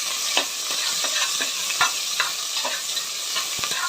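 Chopped onions frying in a pan with oil, a steady sizzle broken by regular scraping stirs of a spatula, close and alone.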